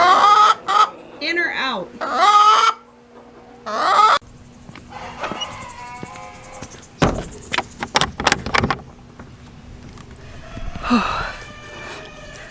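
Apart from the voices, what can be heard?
Delaware chickens clucking in a barn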